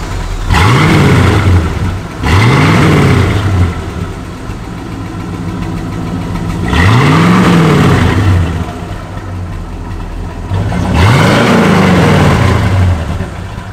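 A Shelby American car with a large-displacement engine sits at a car collection, loud and close, its engine revving in four separate blips that rise and fall over a rumbling idle.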